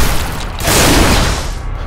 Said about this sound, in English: My favourite weapon in there would probably be the shotgun